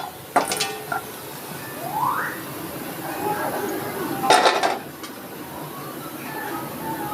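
Fried kathi goja snacks are lifted from a frying pan with sharp metal clinks and scrapes of the utensil against the pan, a few bright clanks over a soft background sizzle.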